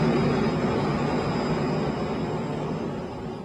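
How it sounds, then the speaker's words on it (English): A jet airplane engine roars in a broad, steady rushing whoosh with a faint high whine, loud at first and slowly fading over a few seconds, no voices present. "That's how a jet works."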